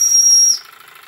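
A loud, steady steam whistle on a Jensen #65EL 110V dual-fuel live steam engine sounds for about half a second, then cuts off and leaves a soft, fading hiss of steam.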